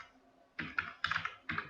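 A computer keyboard is typed on while entering text into an Excel inventory sheet. A few close, crisp keystrokes follow a short quiet start, some landing singly and some in quick doubles, with no talk.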